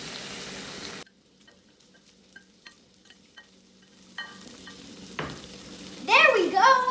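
Bacon frying in a pan makes a hiss that cuts out abruptly, leaving near silence with faint ticks. The sizzle then builds again, joined by a scrape and a brief voice near the end.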